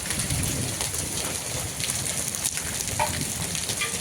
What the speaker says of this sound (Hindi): बेहतरीन ओले परतते हुए ऊपर से।